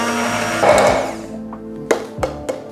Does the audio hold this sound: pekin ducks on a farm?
no